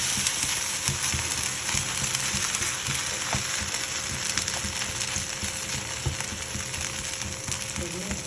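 Sooji veggie adai batter sizzles and fries steadily on a hot pan, a dense continuous crackle with faint scraping now and then.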